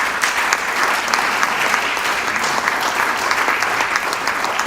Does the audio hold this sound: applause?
yes